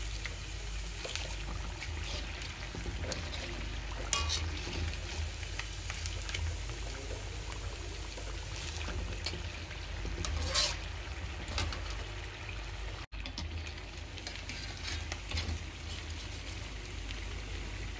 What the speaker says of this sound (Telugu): ఇలా చక్కగా గోల్డెన్ బ్రౌన్ కలర్ వచ్చే వరకు వేయించుకోవాలండి.